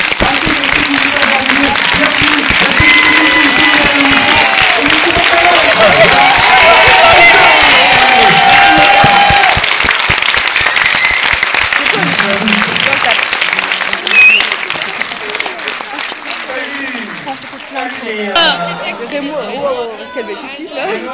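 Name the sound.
audience applause welcoming the film crew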